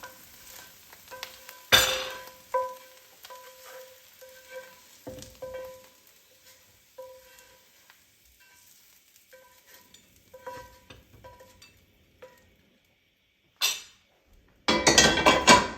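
Mushrooms sautéing in a pan on a stovetop burner, with intermittent soft sizzling, utensil stirring and clinks against the pan, a sharp clatter near the start and another burst at the end, without speech.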